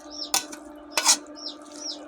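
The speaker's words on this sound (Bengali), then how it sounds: "এখন আমি ভালো করে নেড়ে দেব, ভালো করে নেড়ে দিতে হবে, কিছুক্ষণ পর পর নাড়তে হবে," A spatula stirs cabbage, potatoes and peas in a wok, two sharp metallic scrapes and clanks close by over a faint hum, with light chirping in the background.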